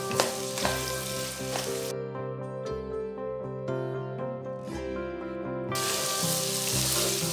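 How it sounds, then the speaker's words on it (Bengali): Vegetables with beans and peas frying for egg fried rice make a bright, hissing sizzle at the start and end, while tonal background music takes over the middle stretch. "তিন চার মিনিট মতো মিডিয়াম ফ্লেমে এটাকে ভেজে সবজিগুলো যেন নরম হয়ে যায় সেইভাবে ভেজে নেব"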